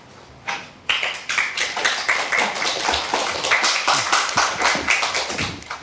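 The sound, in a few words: audience applause for a lecture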